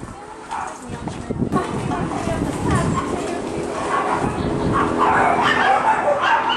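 Dogs bark and yip repeatedly in an echoing indoor space at an animal shelter, overlapping with people talking nearby.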